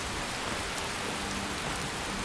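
Steady, dense rain pours in the Skyrim video game, a constant even hiss with no breaks, and no one talks over it.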